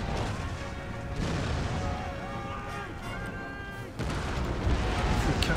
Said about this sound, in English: Set my lines up to begin firing into the center.